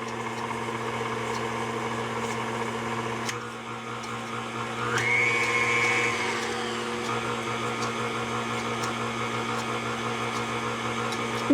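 An electric mixer runs continuously, cutting shortening into dry chocolate cake mix ingredients in a deep bowl, a steady motor whir with a brief rise in pitch and strain midway.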